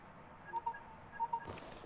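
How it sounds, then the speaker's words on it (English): A phone in the video game Lacuna rings with two pairs of short electronic tones, faint and evenly spaced, over a quiet background. "Getting a phone call."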